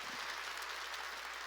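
Church congregation clapping hands during a sermon, a steady dense wash of applause held at an even level throughout.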